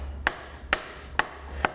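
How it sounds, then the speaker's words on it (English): A dead blow hammer taps a transmission trap door into place, four sharp, evenly spaced knocks about half a second apart, loud and close in a quiet workshop. "I'm going to take the dead blow hammer and tap the trap door home"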